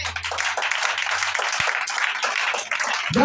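A church congregation applauding in acclaim of Jesus Christ, a dense, continuous patter of many hands clapping close by, steady and sustained throughout.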